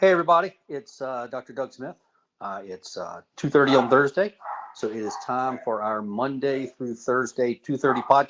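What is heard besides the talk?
None of the usual background noises is heard.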